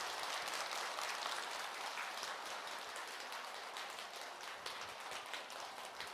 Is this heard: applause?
yes